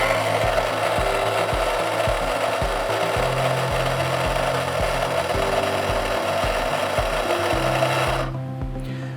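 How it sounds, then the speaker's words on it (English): A water softener control valve cycles into backwash as a steady motor whir with rhythmic mechanical pulses. It runs continuously and close for several seconds, then cuts off abruptly near the end. "pressing it and holding it until we hear the valve cycle into backwash"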